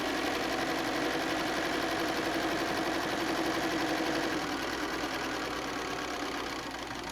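A sewing machine runs continuously, stitching half-square triangle units for a dinosaur panel quilt top, with a dense, even whir held at a constant level throughout.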